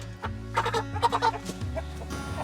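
Hens clucking close by in a quick burst of overlapping calls, with a low steady hum of machinery underneath.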